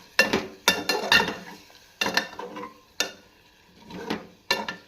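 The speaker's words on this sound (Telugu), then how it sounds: "పప్పు వేసుకొని కలుపుకోవాలి." Soaked dal being stirred in a pot over a low flame, with a spoon knocking and scraping against the metal in repeated bursts of clinks and scrapes, close and fairly clear, and no voices.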